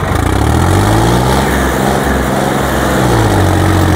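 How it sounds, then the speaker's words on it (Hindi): Sonalika 750 and Swaraj 855 turbo tractors run side by side in a pulling contest, their engines roaring loud and steady up close with a constant low throb throughout. "ट्रैक्टर चाल बहुत बढ़िया रहा है भाई।"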